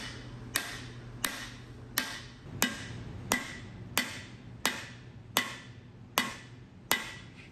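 A hammer drives parts into a supercharged small-block engine block with about ten sharp, evenly spaced metallic strikes, each less than a second apart and each ringing briefly before the next, with no talking.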